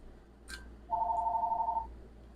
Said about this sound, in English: Who the heck keep calling this phone?